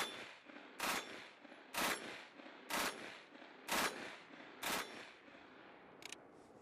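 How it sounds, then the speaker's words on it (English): Loud short bursts from a modern German assault rifle fired in controlled two-shot groups, six evenly spaced bursts about a second apart, each sharp and crackling over a steady outdoor hiss. "The gun has a tendency to want to climb high, and I made damn sure I kept it to 2-shot bursts."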